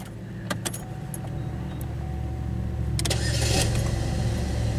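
A Chevrolet Malibu with an intermittent no-crank fault is heard close up. After a few clicks and rattles, the starter cranks briefly and the engine catches, settling into a steady idle rumble.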